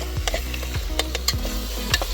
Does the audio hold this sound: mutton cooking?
yes